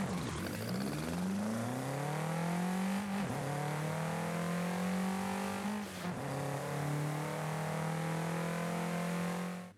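Citroen BX 4TC Group B rally car engine in Forza Horizon 5, revving up in rising sweeps three times in a row, a loud, continuous mechanical whine climbing in pitch with each pull, no voices.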